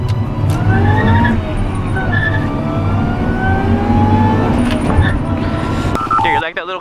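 A supercharged 2002 Honda Civic Si engine revs up and down, its pitch rising and falling in sweeps, loud and close, ending with a short electronic beeping.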